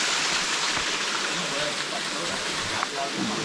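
Steady broadband rush of flowing water, loud and continuous, from nearby Dutch Creek Falls in Coloma, California, with faint voices underneath.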